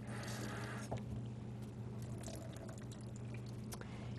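Fruit is rinsed under running water at a kitchen sink while making whole wheat waffles and pancakes, a faint, steady pouring and splashing with a low hum underneath, no talking.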